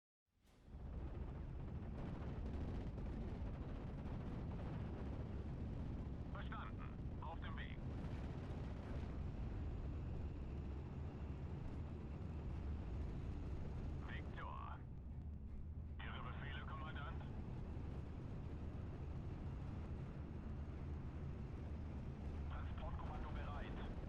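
Aircraft strafing ground targets in the World War II strategy game Steel Division on the Atlantic Wall, a continuous heavy engine roar with repeated bursts of gunfire and blasts, muffled voices faintly beneath.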